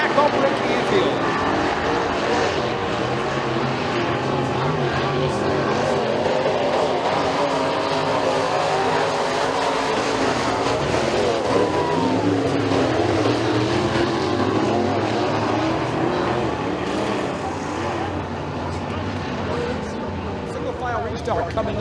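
Dirt track race cars roar around McKean County Raceway in a heat race, a loud, sustained engine drone with shifting pitch as cars pass, under continuous race commentary.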